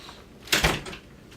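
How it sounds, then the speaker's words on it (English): An office door shuts with one firm thud and a short rattle, close by in a quiet room, with no talk over it. "Sure, shut the door."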